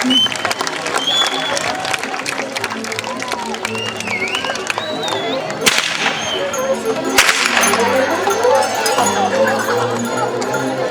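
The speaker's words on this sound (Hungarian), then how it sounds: "Nagy tapsot a csikósoknak!" Crowd applause at an outdoor horse herders' riding show, a steady patter of clapping mixed with sharp whip cracks and general bustle.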